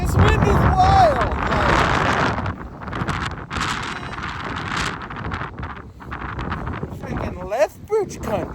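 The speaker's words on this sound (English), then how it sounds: "This wind is wild." Strong wind blowing outdoors in open farm country near Lethbridge, roaring and buffeting hard against the microphone in loud, continuous gusts, with a person talking intermittently underneath.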